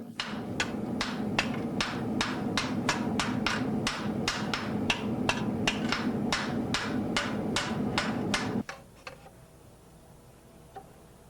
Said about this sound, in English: The joint portion is heated and hammered to forge weld it firmly